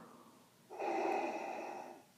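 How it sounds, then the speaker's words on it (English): A performed snore for sleeping banthas in a Star Wars bedtime book read-aloud: one long, rough, throaty breath rises sharply and holds for over a second before trailing off, close and alone. "while outside the banthas contentedly snore."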